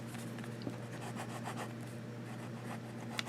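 A smooth, wet fountain pen nib scratches softly across paper in short rhythmic strokes, close and faint over a steady low hum.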